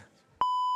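A loud, sharp electronic shot-timer beep at a Southeast Texas shooting competition, a single steady tone starting abruptly after a quiet moment and holding to the end.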